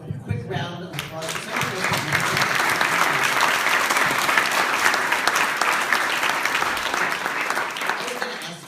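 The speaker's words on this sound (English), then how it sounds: "Can we just have a quick round of applause?" Sustained applause from a panel audience at a jewelry trade show in Las Vegas, a dense steady wash of clapping hands lasting several seconds and tapering slightly at the end.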